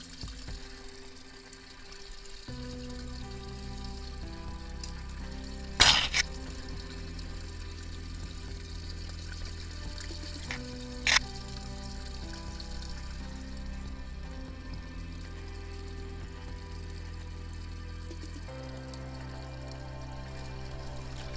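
Water draining steadily out of a garden pond skimmer with the pump off, a continuous low gurgle and trickle near and moderately quiet, with a couple of brief clatters partway through.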